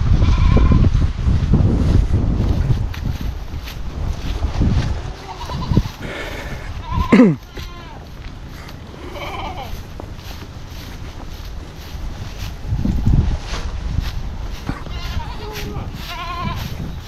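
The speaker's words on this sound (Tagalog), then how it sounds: "Mga alaga nating kambing" Pet goats on a family homestead bleat several times, with wavering cries rising clearly over a low background rumble and scattered movement noise, some calls close and some softer.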